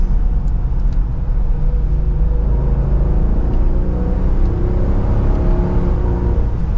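A 2023 Dodge Durango R/T Hemi under added throttle, its engine droning steadily with a low rumbling roar heard from inside the cabin, loud and continuous.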